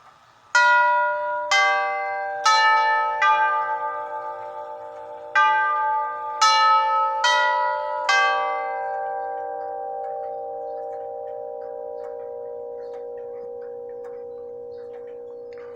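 A clock chimes a series of resonant, bell-like tones in uneven succession, then the final notes ring on and slowly fade in a quiet room.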